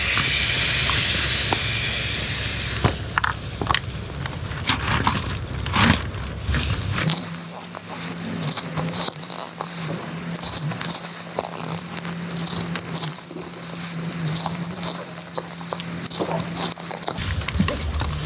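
Air being squeezed from an inflation bag into an Alpackaraft Mage packraft, heard as a loud, close, continuous rushing hiss, with rustling and shifting of the bag fabric in short bursts throughout.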